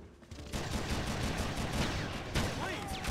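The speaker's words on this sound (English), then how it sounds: "Who the fuck is shooting me like crazy down here?" Rapid bursts of automatic gunfire in the Red Faction game, loud and continuous from about half a second onward, with a sharper shot near the end during an alarm-filled generator facility firefight.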